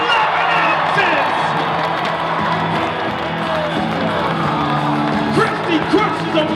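Hometown crowd at a bass fishing tournament weigh-in cheers and whoops steadily, a loud dense roar with scattered claps beneath an announcer's voice.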